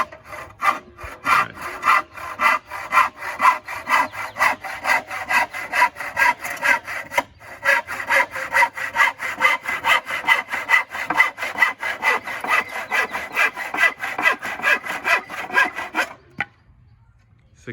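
Hand saw cutting wood for a birdhouse, a loud, steady back-and-forth rasp of regular strokes that runs about sixteen seconds before stopping abruptly, with no talking.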